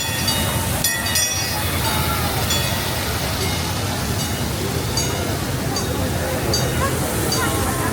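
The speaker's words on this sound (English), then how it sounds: "it's a train that's taken us throughout these dark ride scenes" A dark ride train rolls along at the Santa Cruz Beach Boardwalk amusement park with a continuous rumble, faint rail clatter and squeal, close by, as riders chatter over it.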